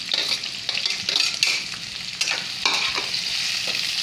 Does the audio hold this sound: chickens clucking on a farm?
no